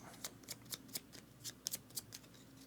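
A deck of game cards being shuffled by hand, soft rapid riffling snaps in an irregular run of about a dozen quick bursts, close and quiet, with no talking.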